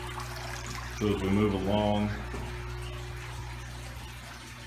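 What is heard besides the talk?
water flowing out of aquaponics pipe into tank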